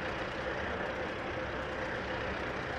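A bus rolling past on a road beside a railway line, a steady broadband engine and road roar held at constant loudness through the short stretch, with no talk over it.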